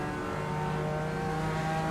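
Race cars in the iRacing sim roar past in a dense, steady engine drone with layered high-pitched whine, loud and close throughout.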